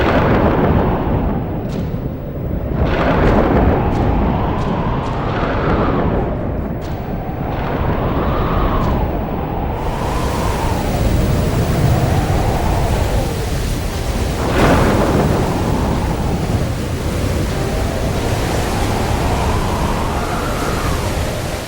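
A fierce storm with heavy rain pours down in a dense, steady roar, with rumbling thunder swelling and fading several times throughout. It sounds loud and continuous, with no voices.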